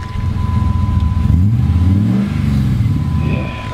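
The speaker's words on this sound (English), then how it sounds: "give it a rev" A truck engine fitted with a MagnaFlow exhaust revs steadily up and back down, a loud, close, continuous mid-pitched roar with no voices over it.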